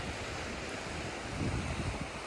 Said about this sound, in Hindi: समुंदर की लहरें खूब ज़ोर ज़ोर से आके टकराती हैं।